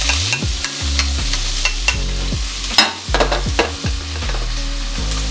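Onions hitting hot oil in a pan, a loud close sizzle broken by rhythmic stirring scrapes and a few sharp clatters, with a low hum underneath and no speech.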